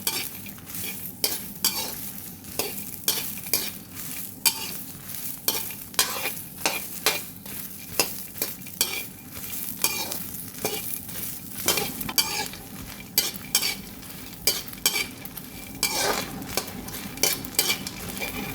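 Stink bugs are stir-fried in a pan, with steady sizzling under repeated scraping strokes of a utensil against the pan, close and rhythmic throughout, with no talking.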